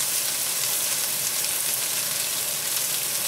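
Onions browning to golden in a hot pan for a pineapple, vegetable and chicken stir-fry hiss in a continuous, even, bright sizzle, close up and steady, with no talking over it.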